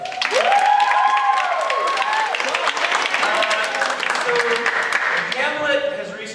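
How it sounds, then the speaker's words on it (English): An audience at a live school play of Shakespeare's Hamlet gives a steady, sustained round of applause, with voices heard over the clapping. "Give a round of applause for James."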